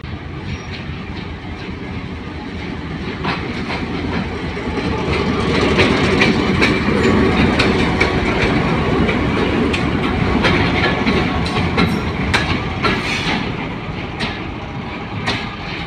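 Train with a small locomotive engine at Hasan Abdal railway station, a steady loud rumble with clickety-clack of wheels on rails, rising slightly midway and continuing throughout with no talk.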